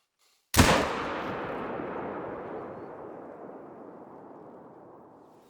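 Single rifle gunshot at a deer in theHunter: Call of the Wild, one sharp loud crack followed by a long booming echo that rolls away over several seconds, with no voices.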